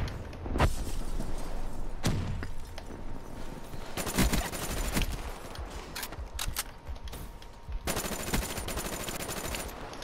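Video-game gunfire in FFAR: loud, close bursts of rapid automatic shots broken by short pauses and a few single thuds, with no talking.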